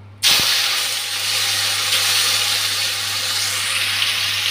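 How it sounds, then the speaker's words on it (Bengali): Paneer coated in salt and turmeric hitting hot oil, a sudden loud hiss that settles into a steady, close frying sizzle over a low constant hum, no talk. "তেলটা গরম হয়ে গেছে, নুন হলুদ মেখে পনিরটা অল্প ভেজে নিচ্ছি।"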